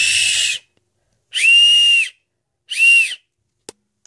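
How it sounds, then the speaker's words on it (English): Three shrill whistle blasts, the first short and the next two longer with a steady pitch, separated by silence, then a faint click. "and it's a whistle."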